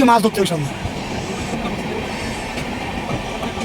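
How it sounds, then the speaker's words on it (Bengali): Nanded special train in motion, a steady loud rumble of wheels and carriage with rhythmic clatter from inside the coach, a voice speaking briefly at the start. "নান্দের স্পেশাল ট্রেনে আমরা বসে গেছি ট্রেন ছেড়েও দিয়েছে"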